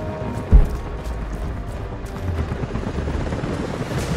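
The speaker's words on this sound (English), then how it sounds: "Jacob, helicopters are headed your way." Helicopters approach in the video game Rise of the Tomb Raider, a steady low rotor rumble that holds throughout, with a brief deep thump near the start.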